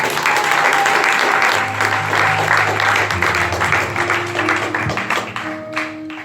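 A church congregation at a Sunday service applauds in a dense, sustained round of clapping throughout, with held musical tones underneath and faint voices mixed in.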